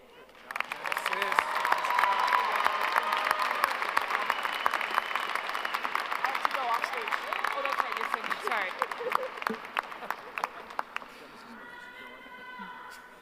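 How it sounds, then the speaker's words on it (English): A high school graduation audience applauds honor students, with broad clapping that swells quickly, holds strong for about ten seconds, then thins out as a voice begins speaking near the end. "Let's give one more round of applause to Genesis DeHaan and all of our honor students today"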